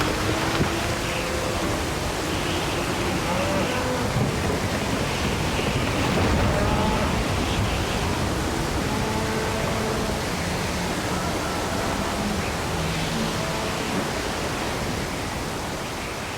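Steady roaring storm wind of a hurricane, broad and unbroken, fills the whole stretch with no voices.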